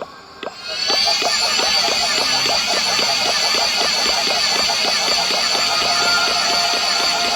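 Vehicle engine in a video game revving up after a brief start, a steady buzzing drone with rapid rhythmic pulses that hold throughout, loud and unbroken with no talk.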